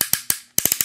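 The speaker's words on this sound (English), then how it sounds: "Ratcheting. Loads of it." Plastic ratcheting joints on a Transformers Universe Silverbolt figure, a rapid string of sharp close clicks, loud and alone, with a brief gap before a faster cluster of four.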